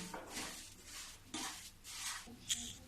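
Semolina (suji) is roasted in a pan for halwa, with a spoon scraping and stirring in repeated soft, rhythmic strokes and a faint sizzle, plus a small metallic clink near the end.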